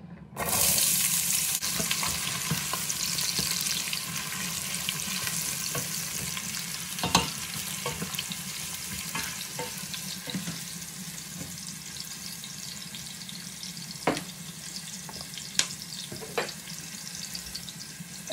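Onions frying in rapeseed oil in a pot, a continuous close sizzle with occasional sharp crackles and spatters, no talking.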